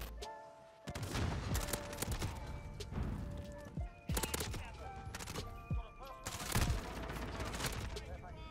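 Rapid gunfire from SMGs and shotguns in the video game Road to Damascus comes in repeated loud, sharp bursts with short gaps, mixed with thuds and a voice talking over it.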